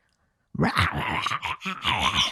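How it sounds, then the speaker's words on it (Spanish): A dog barks and growls in a rough, repeated run of close vocalizations that begins after a moment of silence, with no talk. "Ahí tienen una buena experiencia, la del perro ladrando."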